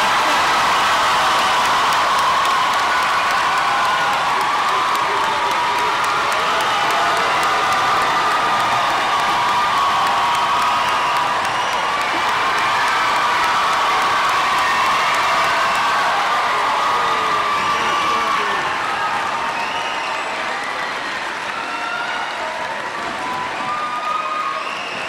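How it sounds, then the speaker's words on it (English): At the James Monroe High School graduation, a large crowd applauds and cheers the graduating class, with sustained clapping, whoops and shouts that stay loud and continuous for about twenty-five seconds. "Please join me in applauding the James Monroe High School class of"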